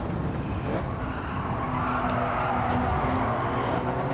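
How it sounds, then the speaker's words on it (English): A car in Gran Turismo 7 on sports hard tyres slides through a corner, its tyres squealing with faint tonal whines over a constant loud engine roar and road noise. "expect a lot of tyre squealing and sliding of the car"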